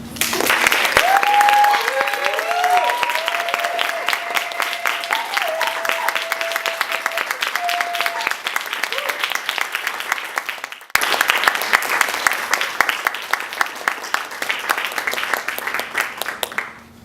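Sustained audience applause at a 2016 keynote, dense clapping from a sizable crowd that continues steadily for many seconds with a brief dip partway through.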